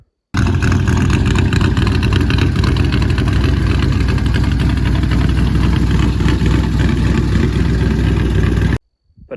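A 1985 Chevrolet K20 Suburban with a swapped LS V8 and straight pipes, no mufflers, idles loud and close, a deep rumbling, lumpy exhaust drone that holds steady for about eight seconds before cutting off.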